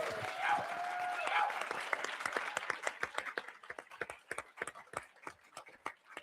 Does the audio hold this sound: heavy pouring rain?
no